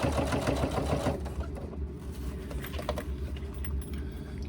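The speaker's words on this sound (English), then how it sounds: "Now we are again stitching up close to the edge of the piping cord." Sewing machine stitching a laptop bag close to the edge of its piping cord, a rapid mechanical whirring and rattle up close that runs fast at first, then slows and eases off into lighter clicks.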